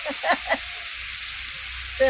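Snake gourd frying in oil gives a quiet, even sizzle, with a brief voice speaking over it at the start and again at the end.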